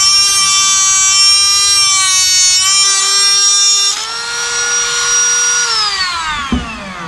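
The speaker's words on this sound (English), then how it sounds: "I'm gonna cut it with this die grinder" A die grinder cuts through an aftermarket exhaust pipe for a 2015-2021 Yamaha R3, a loud, close, high whine that shifts pitch as the blade bites, then spins down near the end.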